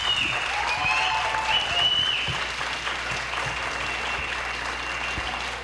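An audience at a university rector election debate applauding, a dense, continuous clapping that starts loudest and tapers slightly.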